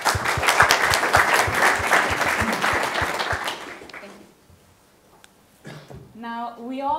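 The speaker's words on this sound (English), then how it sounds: "Round of applause." Audience applause breaks out after a young behavioural scientist from Harvard is introduced at a conference, a dense, loud wave of clapping that fades after about four seconds, followed by quiet murmurs and a person beginning to speak.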